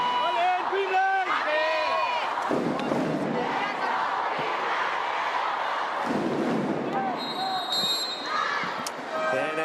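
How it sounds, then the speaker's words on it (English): Volleyball crowd at a PVL Invitational Conference match cheering and chanting loudly in an arena, with shouted whoops and rhythmic calls mixed with thuds. Voices shout over the din throughout. "as you can hear, the crowd has gotten into the battle too."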